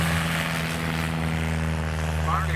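Zenith STOL Sky Jeep propeller airplane at a STOL competition, its engine holding a steady close drone with strong low harmonics throughout, while a voice talks over it.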